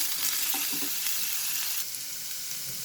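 French beans sauté in a pan for chicken fried rice, giving a steady close sizzle with a few soft stirring clatters early on and a slight drop in intensity near the end.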